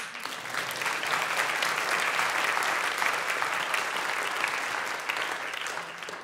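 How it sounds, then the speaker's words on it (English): An audience claps for an absent winner at a translation prize ceremony, sustained even applause swelling slightly and holding steady, then easing off near the end, with no speech over it. "but I think we'll clap him anyway."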